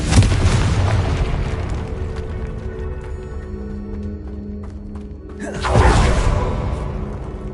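The Confringo fire spell explodes in the video game Hogwarts Legacy. A loud rumbling roar carries on and fades, then a fresh booming burst erupts near the end.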